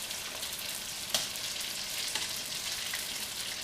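Homemade egg rolls made from leftovers frying in a pan give a steady, soft sizzle and crackle, with a few small pops and light stirring taps, close and continuous.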